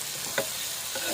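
Keema curry sizzles steadily in a pan, a close, bright hiss with a short scrape of stirring partway through.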